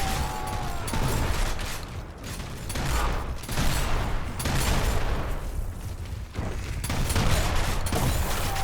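Dense, continuous gunfire and weapon noise from a Gears of War team deathmatch round, with a headshot lost among loud, crowded action and clatter.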